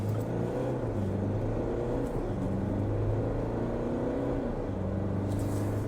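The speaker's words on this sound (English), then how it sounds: "So what's the acceleration like from the Canon Alpha?" A 2024 GWM Canon Alpha with a 2.4 litre turbo engine accelerating, heard from inside as a steady droning engine note that rises and falls in pitch through gear changes, loud and continuous with no talking.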